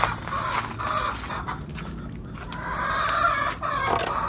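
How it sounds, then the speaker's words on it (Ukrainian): Laying hens clucking close by in a busy run, repeated squawks and cackles with a rooster-like call mixed in, loud over farmyard background. "Кури несуться."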